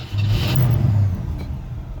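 A 1959 Cadillac Sedan V8 engine fires up close by, with a quick cranking catch settling into a deep, steady low rumble at idle.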